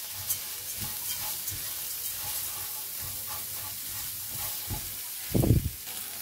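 Black pepper toasting in a hot pan for an Algerian stuffed aubergine dish, giving a soft, steady sizzle with a few light stirring scrapes and a louder crackling burst near the end.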